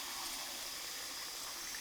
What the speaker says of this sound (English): Pop them in the dish and fill it with cold water.